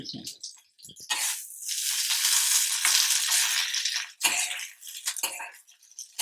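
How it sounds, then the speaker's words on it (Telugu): Capsicum curry with green chillies frying in oil in a pan gives a bright, steady sizzle, broken by spoon scrapes and clinks against the pan and short pauses. "పచ్చికన్నం పోయేదాకా కొద్దిగా వేయించుకోండి"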